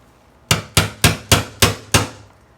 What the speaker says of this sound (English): Nice punch like that. I'm using a 24-ounce hammer.